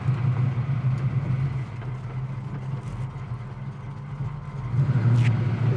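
A 1971 Camaro with a new, not fully tuned carburetor idles steadily up close, a deep low rumble that holds even throughout and swells slightly louder near the end.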